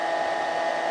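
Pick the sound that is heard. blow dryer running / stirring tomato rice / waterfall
blow dryer running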